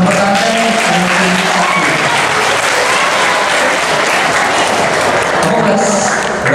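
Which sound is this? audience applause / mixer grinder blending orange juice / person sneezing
audience applause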